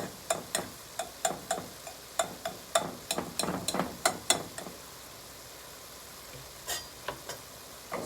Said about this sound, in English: I'm breaking my eggs, and I'm going to incorporate them